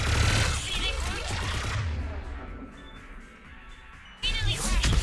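Dense bursts of gunfire erupt during a Mass Effect 3 firefight, loud at the opening and again at the close, with a quieter stretch between and voices talking over the action.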